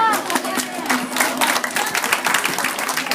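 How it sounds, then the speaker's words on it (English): Graduation audience applauding parents, a crowd of hands clapping in an uneven mixed patter with some murmuring voices under it. "I think your parents deserve your loudest applause"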